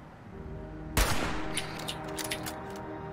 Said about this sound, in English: True shot hunting rifle.